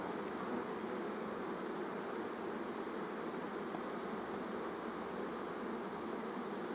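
Honey bees swarming around an open beehive during frame work, a steady, dense buzzing hum that fills the whole stretch without pause, close and even in level.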